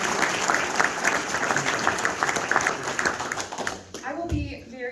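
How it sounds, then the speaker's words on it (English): An audience applauds at a county bicentennial ceremony for Montgomery County, Illinois, with steady dense clapping that fades out near the end, followed by a brief low thump and a voice. "So I hope you will give them all a round of applause."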